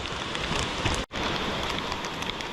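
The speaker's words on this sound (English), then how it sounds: "as you can see, it's pouring rain" Heavy rain pours down beside a mountain stream, a loud, continuous hiss of drops hitting surfaces that drops out for a split second partway through and then carries on unchanged.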